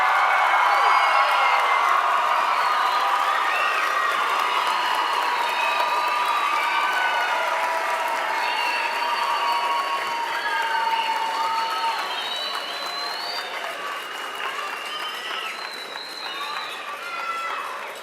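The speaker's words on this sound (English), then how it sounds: "Audience, give your seniors a round of applause." A large audience at a graduation ceremony applauds steadily with cheers and whoops mixed in. The sound is loud and sustained, fading slightly toward the end.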